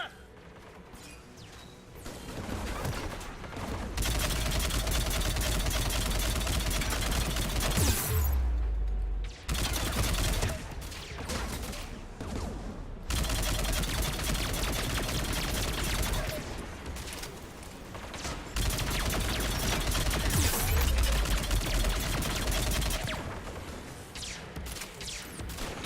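Sustained squad gunfire in a Mass Effect 3 firefight, dense bursts of automatic weapons and heavy impacts rolling almost continuously, loud and close, broken by brief pauses, with voices under the shooting.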